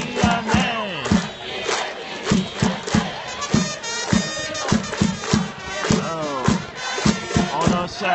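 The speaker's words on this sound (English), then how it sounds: "the crowd is so loud and the speakers are so crappy" Loud crowd at a Japanese professional baseball game in Akita cheering rhythmically with regular beats and chanted calls, close and continuous throughout.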